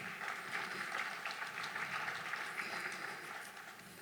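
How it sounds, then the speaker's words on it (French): Audience applause for panelists at an artificial intelligence conference panel, a dense, steady wash of many hands clapping at moderate loudness that carries evenly through and eases slightly at the end, with no voices over it. "On peut les applaudir quand même pour..."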